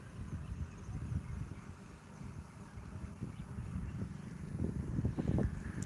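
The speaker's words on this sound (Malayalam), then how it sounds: "അടിപൊളി കാറ്റ്" Steady wind rushing and buffeting across the microphone, a continuous low rumble that swells slightly toward the end, with no voices.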